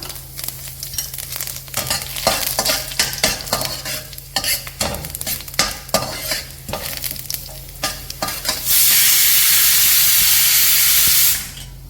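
Urad dal and two dried red chillies fry in hot oil for cherupayar erissery, a close crackling sizzle broken by stirring scrapes, then a steady loud hiss of steam or spray near the end.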